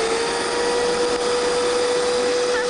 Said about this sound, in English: I'm going to put it on high speed and just drop them in there, so that'll crush it up really fast